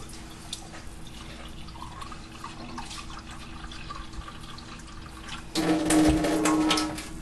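A cup of water poured into a pot while mixing a peanut butter sheet cake: a short, close splashing gush near the end, louder than the quiet kitchen hiss before it.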